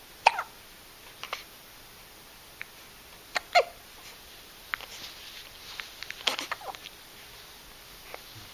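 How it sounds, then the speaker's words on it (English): A two-week-old baby hiccups repeatedly, with small sharp catches spaced irregularly over a quiet background, close to the microphone and with no talk. "do you have the hiccups?"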